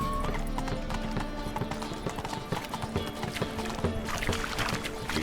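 A horse's hooves clip-clop in a steady galloping rhythm in The Witcher 3, close and continuous with faint creaks and ambient game sound, no voices over it.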